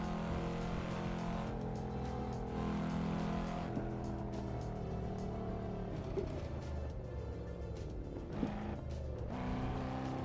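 Engine of a Volvo car driven at night on Japanese roads in the racing game Assetto Corsa, a steady loud drone with shifting pitch as it accelerates and eases off, with a brief tire noise near the end.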